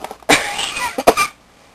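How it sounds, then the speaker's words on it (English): Two sharp coughs close to the microphone, triggered by washing soda powder while mixing laundry detergent, a longer harsh burst followed by a shorter one, with quiet before and after. "this stuff kind of makes me cough when I mix it."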